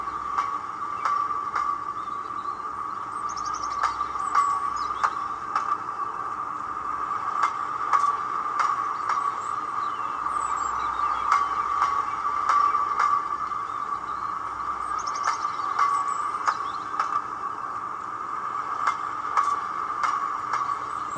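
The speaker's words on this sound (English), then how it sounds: "This is a train passing." A model train with a Gaugemaster GM780 sound module rumbles past on a layout with a steady mid-pitched hum and regular rhythmic clicks of wheels over rail joints, fairly close and continuous throughout.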